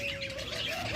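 A rainbow lovebird pair kept as pets chirps and tweets with quick, bright calls close by, overlapping in a busy little burst.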